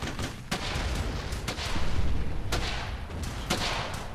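Gunfire from the World War II shooter Brothers In Arms: Hell's Highway, with repeated sharp shots about once a second over a dense rumbling battle backdrop, loud and close.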